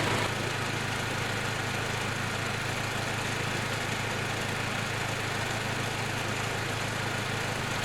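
A Toyota Tacoma engine idles steadily with the A/C compressor running at full load, a continuous close mechanical drone and hum with no talking.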